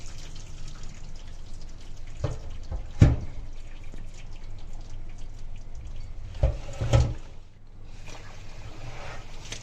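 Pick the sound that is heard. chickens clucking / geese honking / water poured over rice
water poured over rice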